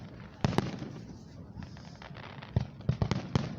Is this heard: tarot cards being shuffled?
no